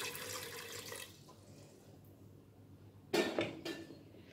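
Water splashes into a pressure cooker holding taro, a short burst of pouring near the end after quiet clinks and faint kitchen hush.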